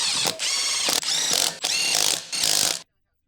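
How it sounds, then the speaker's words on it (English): A half-inch electric impact wrench with an 18mm long socket and extension tightens lug nuts on a Jeep Wrangler, rattling in four loud, close bursts separated by brief pauses before cutting to silence. "a half-inch electric impact wrench to tighten the lug nuts"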